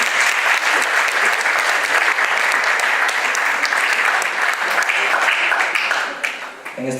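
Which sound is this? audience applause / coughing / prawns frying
audience applause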